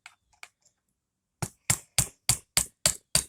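An old awl struck with a hammer to tap a lubricated pin out of a GSG MP40P pistol, a few faint light taps followed by seven sharp, evenly spaced metallic strikes close up.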